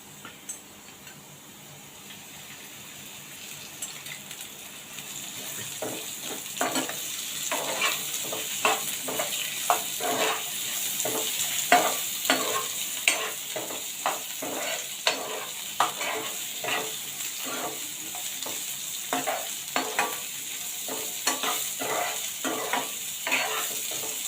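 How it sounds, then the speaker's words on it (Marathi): Sliced onion fries in a little oil and gets stirred, producing a soft continuous sizzle broken by frequent sharp scraping and tapping strokes of the spoon. The strokes grow busier after the opening seconds, with no talking. "त्याला भाजून घेऊया आपण त्याला थोडं लाल होईपर्यंत भाजून घेऊया थोडं तेल टाकते मी"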